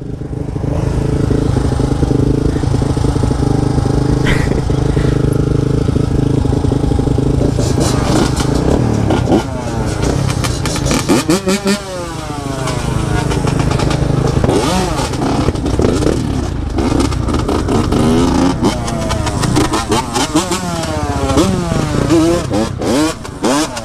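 Motorcycle ridden around a turn with a broken clutch, engine droning loudly and close, then revving with rising and falling pitch sweeps as it accelerates; a voice talks over the engine at times.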